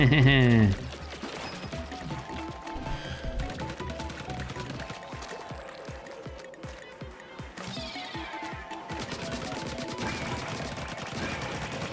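A player-placed turret in Splatoon Raiders fires rapid bursts at enemies, a steady stuttering chatter of shots that runs for several seconds, mid-loud, alongside other game effects and a talking voice.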